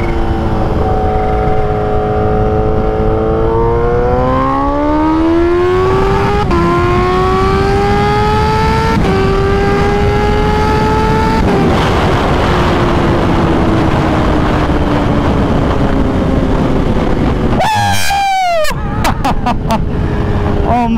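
A Kawasaki Ninja H2 motorcycle on a ride, its engine loud and close, revving up through the gears in rising sweeps with wind rush, then a sharp burst of high revs near the end.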